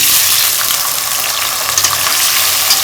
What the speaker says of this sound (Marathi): आता तेल गरम झालेले आहे आता आपण पळपरीत तळून घेऊ